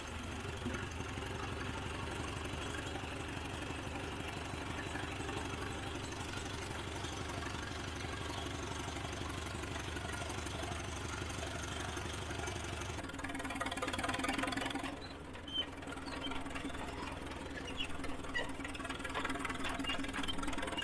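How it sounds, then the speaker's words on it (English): A Holt 45 crawler tractor engine runs steadily at a low idle with a knocking chug, continuous for the whole stretch, with a brief change in tone near the end. "one Holt 45 is used to pull another that had not moved in years"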